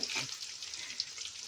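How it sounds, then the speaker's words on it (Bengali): Okra (bhindi) frying slowly in hot oil in a pan for a Bengali mustard-poppy-seed dish, giving a steady close sizzle and crackle with a few brighter pops. "এইভাবে আমরা সব আস্তে আস্তে ভেজে নেব ভালো করে"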